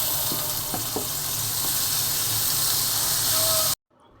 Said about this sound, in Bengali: এখন মিষ্টি কুমড়াটা দিয়ে দিচ্ছি